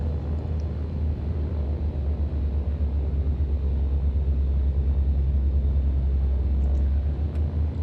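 Twin piston engines of a Beechcraft Baron 58 in X-Plane, idling while warmed up, a steady low droning rumble with a pulsing throb, close and continuous with no voices.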